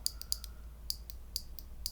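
Crisp clicks from a clicky green Raptor mechanical keyboard switch on a GMMK3 HE keyboard, several quick presses in small bursts with gaps between, close and fairly quiet.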